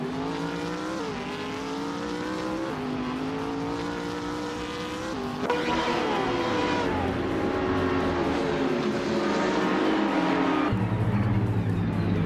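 Race cars in a racing video game roar continuously, engines revving and shifting pitch as several cars run close together and pass, loud and unbroken throughout.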